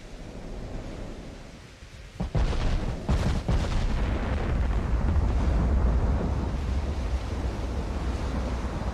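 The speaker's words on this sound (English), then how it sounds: "I'm gonna turn so we can get this last turret to fire." Battleship turret guns fire in the naval warfare game Ultimate Admiral: Dreadnoughts, giving a sudden sharp report and a couple of booming blasts that roll into a sustained surf-like roar, loud and with no voices.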